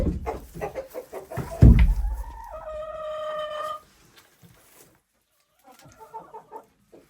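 Chickens cluck and squawk close by, with a drawn-out call in the middle and softer clucks later after a quiet pause.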